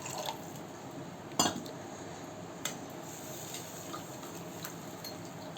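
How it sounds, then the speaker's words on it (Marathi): Water poured into tamarind pulp in a kitchen, a soft liquid trickle and fill with a few sharp clinks of a vessel, quiet and close. "त्यामध्ये पाणी ओतूया आपण."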